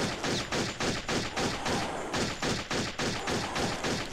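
Rapid bursts of gunfire from the video game Turok 3: Shadow of Oblivion, loud repeated shots in a fast even rhythm filling the whole stretch, with no voices over it.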